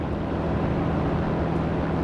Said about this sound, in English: Very, very nice engine sounds indeed.